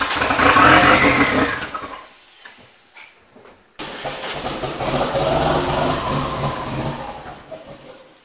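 A turbocharged car engine cranks and then catches, revving up hard in loud swelling bursts that fade between pulls, heard up close with no talk.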